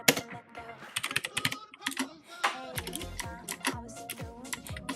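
Rapid, irregular clicks of typing on a computer keyboard come close and clear, with short pauses between bursts.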